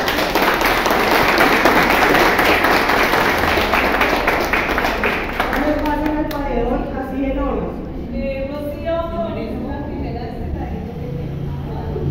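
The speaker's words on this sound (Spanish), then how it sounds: "un aplauso para ustedes" Audience of older adults at a community mural event applauds loudly for about six seconds, then the clapping fades out as a voice begins talking.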